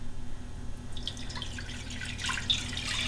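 Traditional bone broth made in an Instant Pot, about 1.5 quarts, pours into a cooking pot with soft splashing and dripping. It starts faint and grows steadier after the first second, with no talk.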